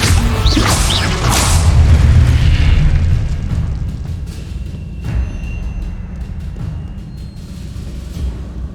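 A fire spell blast in the video game Hogwarts Legacy: a loud, deep booming burst with a crackling whoosh that swells over the first few seconds, then trails into a lower rumbling tail with scattered small pops.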